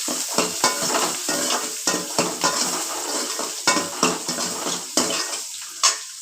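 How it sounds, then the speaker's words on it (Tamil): Onions sauté in sesame oil with a bright, constant sizzle, as a spatula scrapes and taps against the pan in a rhythmic run of strokes, close and fairly loud. "இந்த வெங்காயம் போட்டு இதெல்லாம் போட்டுக்கணும். நல்லா வணக்கணும்."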